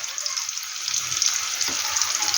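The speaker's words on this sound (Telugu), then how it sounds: "దీన్ని మంచిగా కలుపుకోవాలి" Egg gravy curry simmers and sizzles in a pan while it is stirred, a steady close frying hiss with faint scraping underneath.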